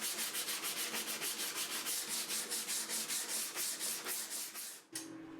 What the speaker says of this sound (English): Then I move on to some 120 grit and do lots of hand sanding.